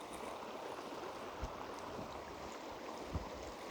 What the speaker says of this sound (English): watching the water kind of flow over and around it